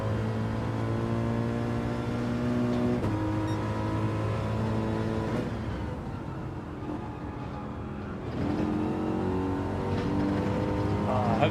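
Race car engines in Gran Turismo 7 whine steadily at high revs, shifting pitch through gear changes and dipping briefly to a lower roar before climbing again, loud and continuous.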